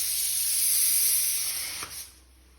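Puttu steams in a puttu maker on a home stove, a steady loud hiss of escaping steam that holds for about two seconds and then quickly tapers away.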